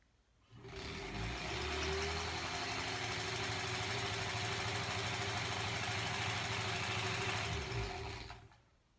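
A sewing machine runs in one continuous, even burst of about seven seconds while stitching a quilt strip, its motor hum close and steady with no talking.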